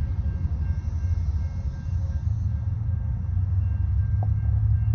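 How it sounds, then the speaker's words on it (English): BNSF mixed freight train passing: a loud, continuous low rumble of rolling wagons and rail noise, steady and close throughout, with a faint brief tonal squeal near the end. "BNSF train."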